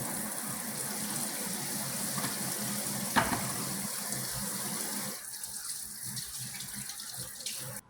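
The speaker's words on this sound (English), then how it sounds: "Be sure to wash your hands every time you cook." Water runs steadily from a kitchen tap while hands are washed before baking banana bread, a close, even gush that cuts off partway through, leaving only faint splashes.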